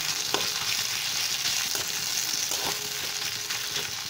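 A small tomato drops into a hot frying pan, sizzling steadily and close up with faint stirring clicks; the dish is Katwa-style data (drumstick stems).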